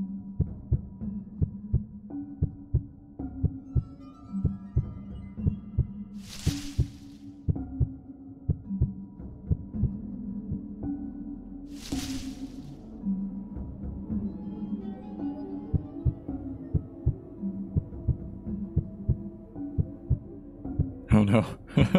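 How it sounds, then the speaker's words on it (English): A regular, rhythmic heartbeat thumps through a stealth sequence in the Paper Lily video game, continuing over a droning musical background and briefly broken by a couple of sharp noise bursts. "Oh, there's a heartbeat."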